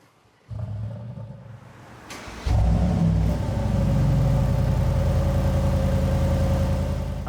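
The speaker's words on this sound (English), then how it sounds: "show you what this car sounds like with the Urban exhaust on it" A Mercedes-AMG G63 V8 with an Urban exhaust starts with a burst, idles low, then blips louder to a deep, rumbling exhaust drone that holds steady up close.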